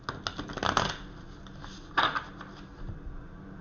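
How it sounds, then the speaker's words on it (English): Tarot cards riffle and slap together in two quick bursts of shuffling, close and crisp, with a quiet pause between them. "I'm going to shuffle the cards for the water signs"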